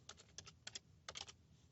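Several short bursts of keystrokes on a computer keyboard as a command is typed, clustered clicks with brief pauses, close and fairly quiet.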